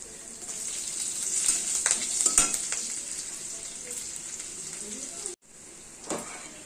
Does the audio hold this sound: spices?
yes